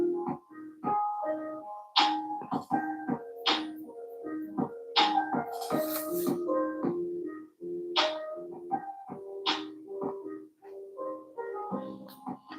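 Background music for a crochet tutorial plays on its own: a bright, tinkling melody of repeated chime-like notes with a music-box or ice-cream-van quality, steady and fairly prominent, with no talking.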